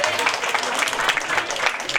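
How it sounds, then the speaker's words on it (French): Audience clapping for a parents' association representative at a school end-of-year celebration and prize-giving, a steady crowd of many hands at moderate loudness with faint voices mixed in. "Merci de l'applaudir une fois de plus."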